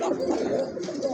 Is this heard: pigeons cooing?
yes